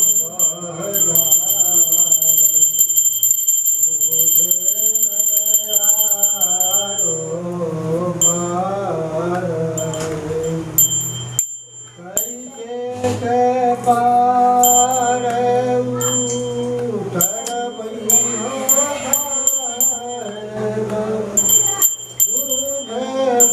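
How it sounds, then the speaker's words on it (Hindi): A small ritual bell rung continuously in a rapid ringing pattern during a Kabir Panth initiation ceremony, loud and close, with a few brief pauses and faint voices underneath. "घंटी ला घंटी"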